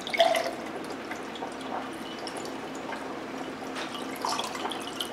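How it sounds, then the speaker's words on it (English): Water poured from a tap into a pitcher of fresh-squeezed lemonade, a steady trickling and splashing stream that holds at a moderate level close by, with no talk. "And then just pour water in."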